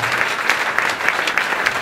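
A church congregation in Brazzaville claps together in a dense, steady burst of applause, loud and close, with a faint voice mixed underneath.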